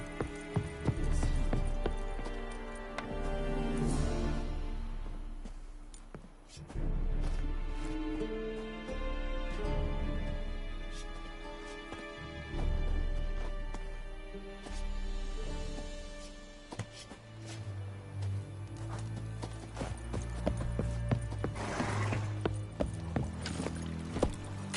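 Roach the horse gallops in The Witcher 3, steady hoofbeats drumming under a swelling orchestral score, with the rhythm pausing and resuming in long stretches.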